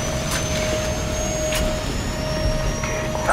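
A helicopter in the video game Call of Duty 4 gives a loud, steady turbine whine and roar, with brief sharp bursts of gunfire over it and no speech.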